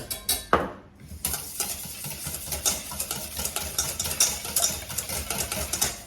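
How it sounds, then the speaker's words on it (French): Eggs being whisked with sugar and custard powder in a bowl, a steady rhythmic scraping and clinking of a whisk against the bowl, moderately quiet and close, with no talking. "on mélange les œufs avec le sucre plus la poudre à crème"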